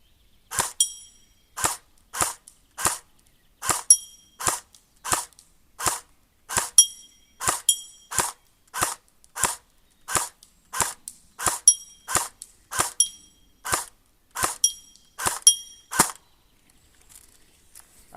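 An airsoft gun fitted with a red dot scope firing shot after shot in a regular rhythm, around twenty sharp, close cracks spaced evenly apart, with quiet gaps between them and no talking.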